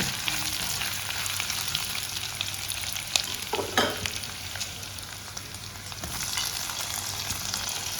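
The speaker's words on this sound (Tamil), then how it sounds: "நல்லா வெங்காயம், இஞ்சி பூண்டு எல்லாம் நல்லா வதங்கிடுச்சு. இப்போ தக்காளியும் போட்டுக்கலாம்." Onion, ginger, garlic and tomato sizzling and frying in a cast iron pan for vegetable biryani, a steady loud crackle with brief stirring scrapes near the middle, no talking.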